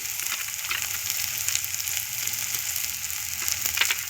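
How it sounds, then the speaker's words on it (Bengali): Chopped garlic frying in oil in a pan for a bitter gourd dish, giving a steady, fairly loud crackling sizzle close by with faint stirring underneath. "দিলাম রসুন কুচি"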